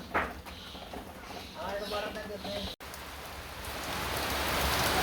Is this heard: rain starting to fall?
yes